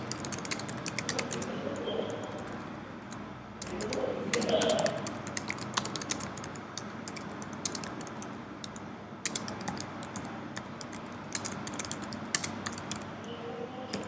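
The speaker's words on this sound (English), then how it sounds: "as I'm typing in this box" Rapid clicking of computer keys in bursts, close and fairly quiet, with a short pause partway through.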